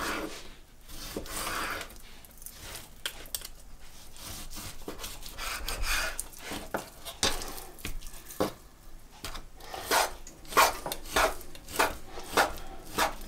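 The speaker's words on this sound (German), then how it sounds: "dann nehme ich meine Hähnchenbrust und werde sie in feine Streifen schneiden" A knife slices chicken breast into thin strips on a cutting board, giving steady, close, repeated chopping and scraping strokes that speed up into a distinct rhythmic series toward the end.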